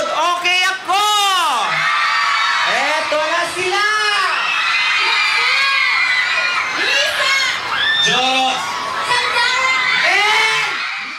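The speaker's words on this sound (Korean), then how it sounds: "산다라 목소리가 들리자 가장 많이 환호하는 사람들." A packed crowd in front of a department store cheers and screams loudly, high whoops and shouts rising and falling in waves throughout, with no clear speech.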